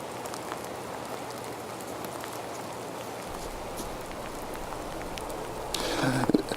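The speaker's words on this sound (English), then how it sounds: "there still are concerns with the heavy rain that's coming down now." Heavy rain falls steadily, a dense, even hiss of drops on surfaces with no voices, and a brief louder splash or rustle near the end.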